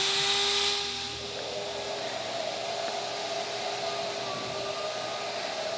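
A Shaper Origin handheld CNC router with a 16 mm bit runs steadily, cutting an inlay; a constant high whine with a brief louder burst at the start, heard from a short distance.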